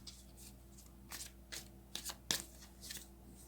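Tarot cards being handled and drawn from a deck, soft papery flicks and slides in a few short bursts, close and quiet with a low hum underneath.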